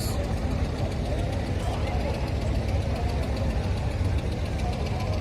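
A passenger launch boat's engine drones loud and steady at close range, with a heavy low rumble and constant mechanical clatter.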